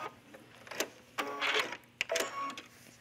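Sewing machine backstitching along a gathered tunic collar: several short, quiet bursts of rapid mechanical stitching, each a second or less, separated by brief pauses.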